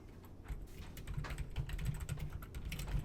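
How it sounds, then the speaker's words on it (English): Quick, uneven keyboard typing with clattering key presses, close and steady for a few seconds, with no voices. "I'll just start off by typing in Fort Lauderdale"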